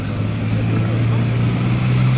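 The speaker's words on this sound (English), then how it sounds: "We're going to pull the music down and let you listen to the sounds of this V12 Willard engine as Tom McCord is cleared for takeoff." A North American P-51D Mustang's V12 engine drones steadily at an airshow ahead of takeoff, a loud, even low rumble with no break.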